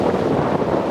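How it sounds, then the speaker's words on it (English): Cold wind gusting across an exposed Appalachian Trail mountainside with icy, frosty conditions, a steady broad roar buffeting the microphone throughout, continuous and loud with no pauses. "It's pretty windy out here."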